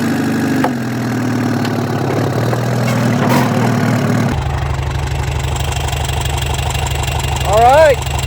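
A Volkswagen-powered JBug buggy engine runs with a loud, rough, steady idle up close; the tone shifts partway through, and a rising whine sounds near the end, with people talking over it.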